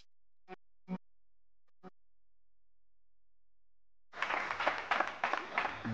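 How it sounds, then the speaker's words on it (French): Studio audience applause bursts in after a few isolated knocks and a stretch of near silence, a loud, full clapping crowd on a French midday television show. "Applaudissements pour Awa."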